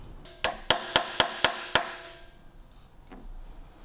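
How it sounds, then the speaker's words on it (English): Six sharp metallic hammer-on-chisel strikes in a quick, even rhythm, close and loud, chipping old weld out of a 1942 Harley-Davidson frame, followed by a faint lone tap and quiet workshop background. "we'll see if we can get a little chisel in there, see if we can break a bit of weld out"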